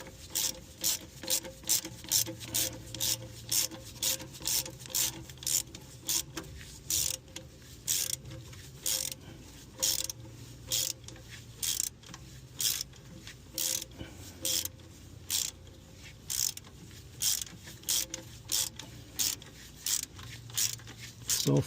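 A ratchet tightens a bolt on the starter of a 1984 Chevy S-10 Blazer, giving repeated close, crisp clicking bursts in a steady back-and-forth rhythm for the whole stretch, with no talking.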